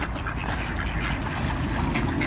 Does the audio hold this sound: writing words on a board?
no